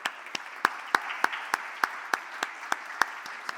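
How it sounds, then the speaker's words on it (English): Sparse audience claps ring out at the end of an event on sustainable water management, a dozen or so distinct, evenly spaced claps, fairly faint and without talk. "So please, a last round of applause"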